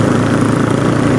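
A Yamaha Scorpio bobber motorcycle engine idles with a steady, loud, low rumble that stays even throughout, with no voices.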